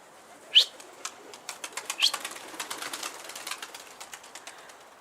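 A stray Turkish game pigeon flies off, its wings clapping sharply at first and then flapping in a quick, fading flurry of beats, outdoors and without talking.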